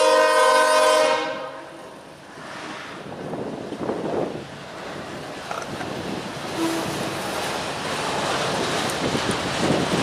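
A train at a railfest in Fostoria sounds a loud, sustained multi-tone horn at the start, then its cars roll past in a long, steady rumbling clatter with some wind noise and no talk.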